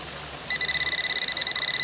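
A Nokta Pulse Dive metal detector, just out of underwater testing, starts sounding with a rapid, steady series of high electronic beeps that begins abruptly and continues without pause.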